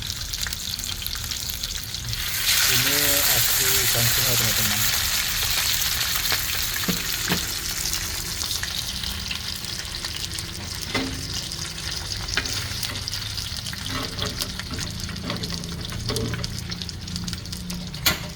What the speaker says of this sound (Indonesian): Ini bukan digoreng teman-teman ya, tapi seperti digoreng, dan ikannya masih ada sisiknya